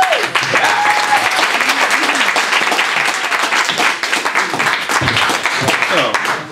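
An audience applauds to welcome a guest singer onto the stage, a dense, sustained wash of clapping that carries steadily from start to finish.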